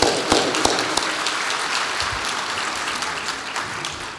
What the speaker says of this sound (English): I would also like to give yourselves a big round of applause